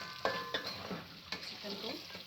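Chicken pieces fry in a pan for Chicken Manchurian, a soft sizzle broken by a few quick stirring scrapes against the pan, with no one speaking.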